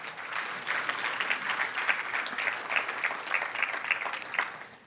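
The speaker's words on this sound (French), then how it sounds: "Donc ça, là, on peut applaudir." A church congregation claps steadily and evenly throughout during a sermon, sustained applause at moderate volume with no pauses, heard from within the room.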